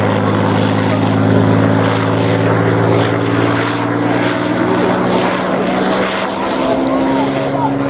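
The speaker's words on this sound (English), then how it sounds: "Special aircraft Hurricane PZ-865. a very special aircraft that was the last Hurricane to be built." Hawker Hurricane PZ865, the last Hurricane ever built, flies past at an RAF Cosford airshow, its propeller engine droning loud and steady with a deep rumble throughout.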